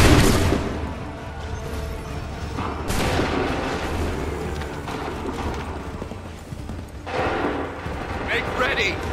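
Musket volleys boom in the Assassin's Creed III video game, a few loud cracking blasts spaced several seconds apart with rumbling decay, amid shouted commands and background battle noise.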